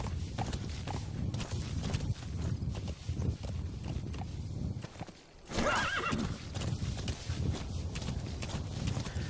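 Hooves clip-clop steadily as a horse walks in Metal Gear Solid V, with a loud neigh partway through, set against a dense game-like ambient background.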